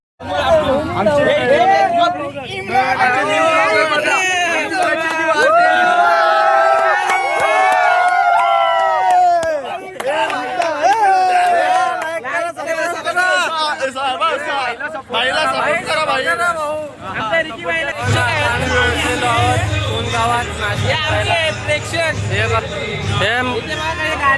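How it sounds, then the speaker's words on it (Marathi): Friends cheering and shouting in a loud, continuous crowd babble at a goddess palkhi procession in Pimplas, Bhiwandi, with raised voices overlapping throughout and a burst of rhythmic noise near the end. "मित्रांचा जल्लोष बघा कसा काय आहे."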